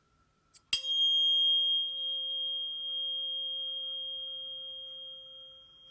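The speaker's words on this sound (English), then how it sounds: "some of you may say that is the sound of the tuning fork" Tuning fork struck once, then a single pure steady tone ringing clearly and slowly fading over several seconds, alone with no talk.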